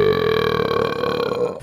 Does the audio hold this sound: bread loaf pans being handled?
no